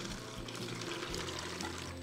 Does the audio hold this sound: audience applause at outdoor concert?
no